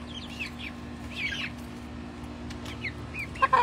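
Backyard pet chickens, now grown, cluck softly in short scattered calls over a low steady hum, with a sharper squawk near the end.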